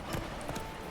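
Roach the horse gallops in The Witcher 3, with quick, close hoofbeats thudding in a fast clip-clop rhythm over a brief stretch.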